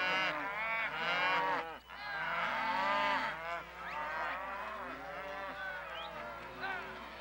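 A rounded-up cattle herd on a ranch trading day lows and moos in overlapping calls, loud and close, with goose-like honks mixed in throughout.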